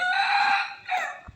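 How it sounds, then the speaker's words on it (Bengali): A rooster crows in the morning, one clear close call that breaks briefly and trails off, heard alone. "মুরগ এরকম যার বাড়ি সবার তো মোরগ থাকতো, মুরগ এরকম ডাক দিত"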